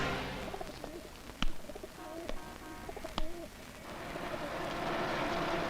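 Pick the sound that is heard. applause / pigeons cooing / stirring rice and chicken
pigeons cooing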